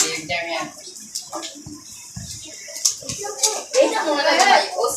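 Water poured during a home festival, splashing and trickling in short bursts mixed with slaps, under people talking, including a child.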